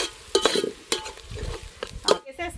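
Onions frying and being stirred in a pan over a wood-fire stove at a farmhouse, with soft crackling sizzle under irregular scraping stirs and a few metallic clinks, close and moderately loud.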